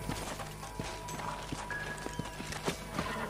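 A horse walks in Red Dead Redemption, its hooves clopping in an even, close rhythm at moderate volume over faint ambient game sound.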